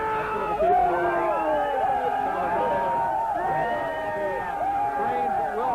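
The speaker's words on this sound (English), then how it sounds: "This is some of the crowd that is heading back from Times Square." A big crowd of New Year's revelers at Penn Station, heading back from Times Square in 2000, fills the space with loud, overlapping chatter, shouts and whoops, a continuous dense babble of many voices close by.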